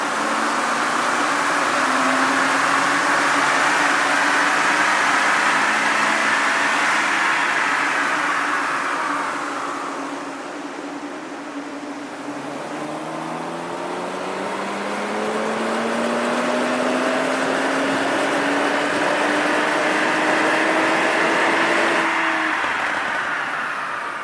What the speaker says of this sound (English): let's get this car in the dyno and see what numbers it makes